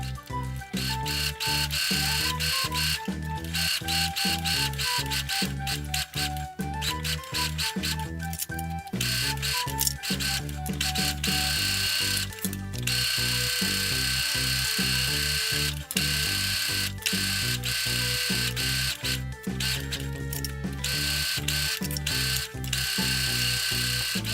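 A sewing machine stitches fabric for a bow scrunchie, running in long continuous rapid mechanical bursts with brief pauses, loud and close, with no talking.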